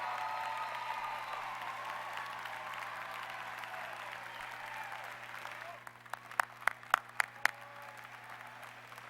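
Applause at a university College of Education commencement ceremony: after several seconds of a voice over a hushed hall, a few sharp claps ring out as the round begins.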